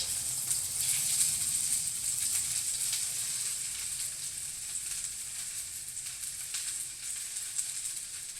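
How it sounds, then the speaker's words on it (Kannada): Okra (bhindi) frying in hot oil for a curry: a steady, close crackling sizzle with bright spattering pops that keeps going throughout, with no voices. "ಎಣ್ಣೆ ಕಾಯಿತು ಇವಾಗ ಬೆಂಡೆಕಾಯಿ ಹಾಕ್ಕೊಳ್ತಾ ಇದ್ದೀನಿ"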